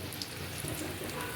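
Food sizzles steadily in a hot pan, a dense crackling hiss like light rain that stays even and close throughout.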